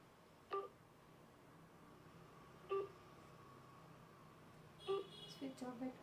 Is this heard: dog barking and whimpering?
no